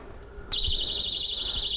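A personal safety alarm keychain held under a hand starts abruptly into a steady, shrill, warbling electronic tone that continues without a break, close and moderately loud.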